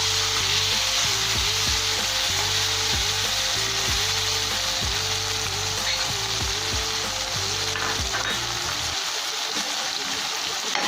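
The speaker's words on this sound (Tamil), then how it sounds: "இப்போது வெங்காயம் நல்லா வதங்கிடுச்சு. இப்போ நம்ம எடுத்து வச்சுருக்கிற 2 தக்காளியை எடுத்து சேர்த்துக்கலாம்." Chopped tomatoes hit sautéed onions in a pan, giving a loud steady sizzle with stirring scrapes and clatter, a brief voice under it, and the frying dropping away near the end.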